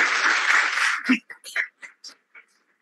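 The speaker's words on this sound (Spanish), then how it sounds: "un aplauso" Brief audience applause at an anniversary event for a university geography department in Chile lasts about a second, then a voice speaks in short bursts over silence.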